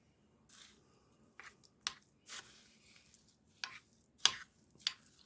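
Western dressing, onion soup mix and preserves are stirred together in a bowl, giving soft wet squishes and scrapes in irregular, separate strokes, close and fairly quiet.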